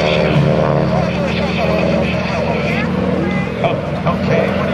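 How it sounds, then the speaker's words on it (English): A propeller-driven advanced trainer aircraft with retractable landing gear flies at the 2010 Blue Angels Homecoming airshow. Its engine drone is steady, loud and continuous, and a voice speaks over it throughout. "The advanced trainers had retractable landing gear, more complex systems throughout the aircraft, and Bill's going to set up to show you."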